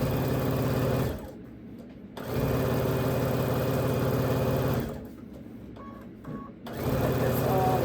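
Sewing machine chain sewing quilt pieces, running in fast steady bursts with a rapid mechanical hum, pausing twice briefly before starting up again, close and clear.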